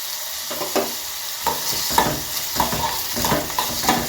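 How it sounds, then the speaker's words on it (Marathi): Fresh green curry leaves hit hot oil with frying onions in a pan for a potato sabzi, giving a crackling sizzle with bursts of spattering and spoon stirring, close and fairly loud. "आता कढीपत्ता टाकायचा आहे।"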